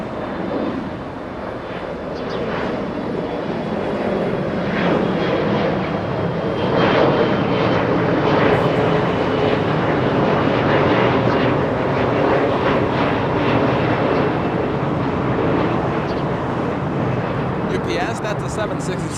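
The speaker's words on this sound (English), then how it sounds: "That's the 767, that's the one that we saw arrive, the one that flew in from Kentucky, exiting on Alpha 8, entering the main taxiway Alpha" A Boeing 767 cargo jet arrived from Kentucky taxis off a runway at Los Angeles International Airport, its engines giving a steady, moderate roar that builds gently and holds, heard from some distance with no talk.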